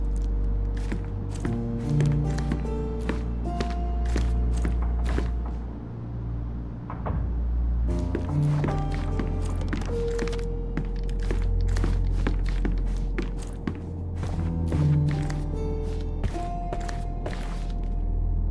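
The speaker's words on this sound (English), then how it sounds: "I heard footsteps upstairs a second ago." Footsteps on the floor above in the detective game Sherlock Holmes Chapter One, a series of clear thuds and knocks spread over a long stretch of otherwise quiet room tone.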